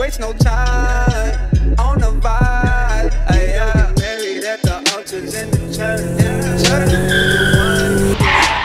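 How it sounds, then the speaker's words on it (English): A car skids with loud, wavering tire squeals in repeated sweeping bursts over a revving engine, close and harsh. A short break in the middle leaves a drop in sound before the squealing and engine noise build again. "That, Kenny, is what you call driving."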